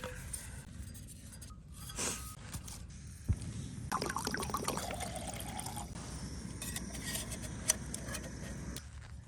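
Water boils in a Jetboil camp stove at a cold winter campsite in Kentucky, a low, steady hiss and burble with a few faint clinks nearby.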